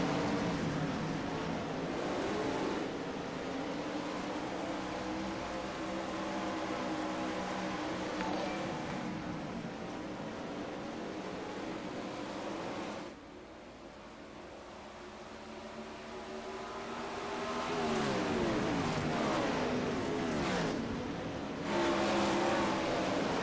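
410 sprint cars roar around a dirt track in a racing league heat, a continuous loud engine drone that rises and falls as the pack passes, briefly dipping midway before swelling again near the end.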